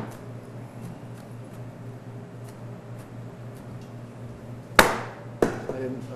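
A knife chops food on a cutting board in a kitchen: after a quiet stretch of faint ticks, three sharp, close strikes land near the end, the first the loudest.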